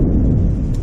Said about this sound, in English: there's the lightning and thunder.